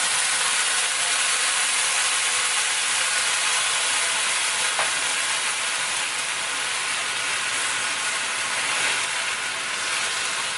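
Chicken frying in a pan with absorbed milk, a steady close sizzle and hiss running continuously with no talk.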